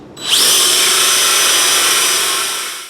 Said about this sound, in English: I'm just going to take a Forstner bit. I'm going to drill down so this is recessed